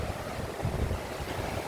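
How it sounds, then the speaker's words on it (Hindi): The Kishanganga river, which flows on as the Neelum, rushes steadily past in a dense, continuous roar that fills the whole moment with broad turbulent water noise and no voices. "ये कृष्ण गंगा नदी है,"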